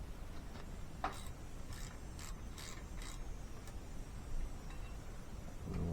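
Ratcheting and creaking metal clicks from tightening bolts on an LS 5.3 engine during a piston and timing install, a few short bursts of mechanism noise over a steady low background.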